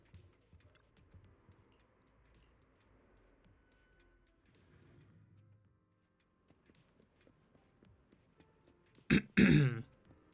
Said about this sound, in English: when I clear my throat, it's not really loud